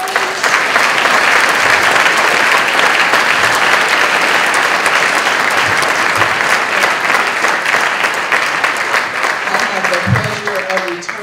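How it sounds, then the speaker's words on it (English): Audience applause for participants at an event, a loud, dense, sustained patter of many hands clapping throughout, tapering slightly toward the end, with a few faint voice fragments near the finish. "If you'll give our participants a round of applause."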